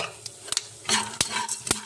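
Peanuts and roasted gram lightly frying in a pan, with a soft sizzle under sharp scraping clicks as a spoon stirs them, several quick taps in an irregular rhythm, close and clear.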